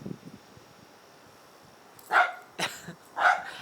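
A reactive dog barking playfully with another dog: three sharp, fairly loud barks in quick succession after a quieter stretch of faint scuffling and soft vocal noises.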